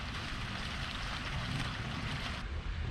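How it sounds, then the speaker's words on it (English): Water splashes steadily from an outdoor fountain in front of a Spanish-tile-roofed building, a broad even rush with no voices. "I do love this fountain out front. Yeah, the sound of water falling"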